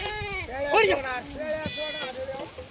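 Sheep coming out of their pen at a village farm give several loud, wavering bleats close by, one after another and sometimes overlapping.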